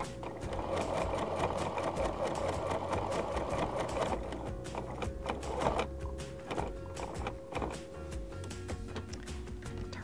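A sewing machine stitches steadily through a quilt, running at a constant fast whir, then pausing briefly near the middle before continuing in shorter bursts as the stitching reverses back over earlier seams.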